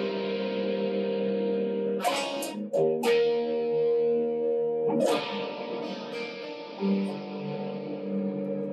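Distorted electric guitar chords through a Boss Chorus Ensemble pedal ring out with a shimmering chorus effect, lower notes dry and upper notes wet, several strums separated by brief pauses, sustained and wavering.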